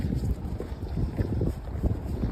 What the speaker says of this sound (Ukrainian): Блін, вітер капець.